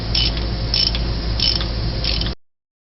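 A 15/16 socket ratchet clicks steadily as it tightens the crankshaft bolt on a 1978 Continental Mark V's Ford 400 engine, a close, continuous pawl rattle with faint creaks, stopping abruptly.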